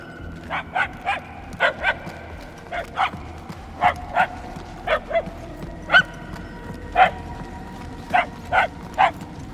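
In the Guardians of the Galaxy video game, a dog barks repeatedly in short, clear yips and woofs, about fifteen evenly spaced over several seconds, moderately loud above a quiet low background.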